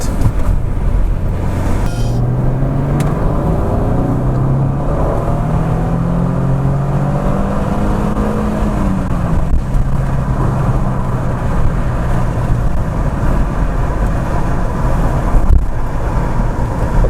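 An Audi A6 2.7 biturbo accelerates hard from 40 to 100 in second gear on a road leaving a village, recorded inside the car, with a loud engine drone rising steadily in pitch, a shift near the middle, and constant road and wind noise.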